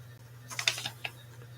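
Computer keyboard keystrokes during a quiet job-hunting work session: a short run of a few soft, close clicks over a low steady hum.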